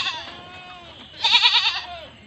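Goats in a pen bleat in two close, wavering calls, the second louder and more quavering, with faint background noise.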